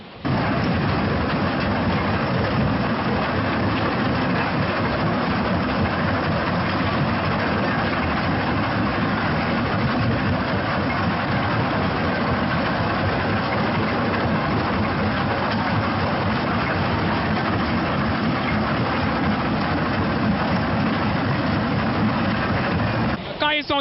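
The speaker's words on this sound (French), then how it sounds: "Il y a un système de vibration qu'il utilise. Il suffit de mettre en marche le moteur et les produits descendent d'eux-mêmes." At a quarry, a vibrating conveyor system runs with its motor on, giving a loud, steady mechanical rumble and drone that holds unchanged for over twenty seconds.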